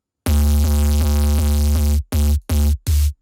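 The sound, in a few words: distorted sine wave synth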